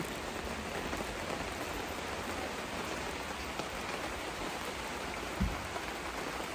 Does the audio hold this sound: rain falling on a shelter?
yes